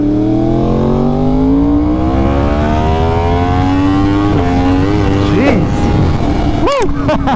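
A 2020 Yamaha R1 with a new chain and sprockets accelerates hard on a test ride, its engine climbing loud and close through the gears with rising whine and sharp shifts, heard from the rider's position with heavy wind rush.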